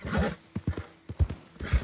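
Horse in Red Dead Redemption 2 Online, spooked by a snake, gives a whinny followed by a run of close, loud hoofbeats clopping in an uneven rhythm.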